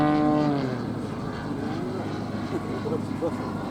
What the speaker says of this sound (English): relying on the power of the engine to keep it hanging there from the prop